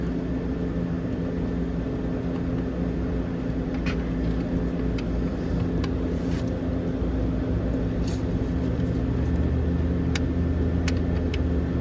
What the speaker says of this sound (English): You can probably hear our fans running for our heat.